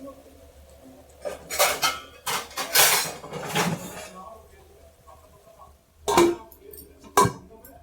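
A plate set down over a pan of potato gravy to cover it, with several clattering metal knocks and scrapes in bursts, followed by two sharper clinks, a voice faintly present in places.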